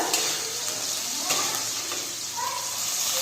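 Salted soybean chilli mixture is stirred in a frying pan, giving a steady close sizzle with soft scrapes of the spatula running through the whole stretch.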